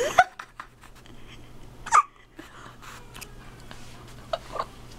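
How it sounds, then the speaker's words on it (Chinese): A baby hiccups loudly at close range, with about three sharp, separate hiccups spread across a quiet room and some soft breathing in between. "他正在打嗝，而且好大声。"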